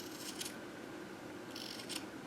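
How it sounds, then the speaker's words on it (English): Two quick, crisp snips of scissors cutting through tassel thread, about a second and a half apart, close up in a quiet room. "put your scissors through"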